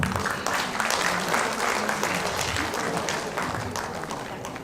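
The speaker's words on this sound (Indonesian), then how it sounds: "Kasih tepuk tangan dong." Audience applause at a senior club's fifth-anniversary talk show, a dense steady wash of many hands clapping together, close and full, holding for several seconds before easing slightly toward the end.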